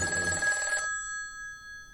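A beige landline telephone rings once, a bright electronic bell trill that cuts off and leaves a thin fading tone, loud and close with no talk over it.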